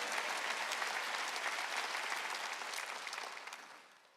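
A church congregation at a Wednesday worship service claps together in a dense, sustained roar of hands. The clapping stays strong for several seconds, then fades away toward the end.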